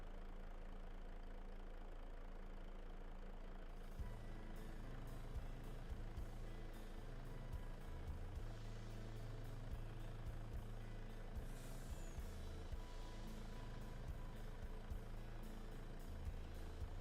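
Steady truck engine rumble from Farming Simulator 25, a low continuous idling drone with faint knocking pulses, running unbroken and alone for the whole stretch at a quiet level.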